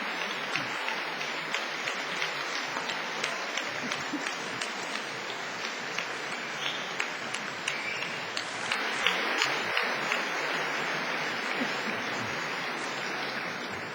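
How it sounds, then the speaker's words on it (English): A large graduation audience at Cardiff University gives a long round of applause, a continuous wash of many clapping hands that swells slightly near the end. "give them a big wave, greet them and show your appreciation by giving them all a big round of applause"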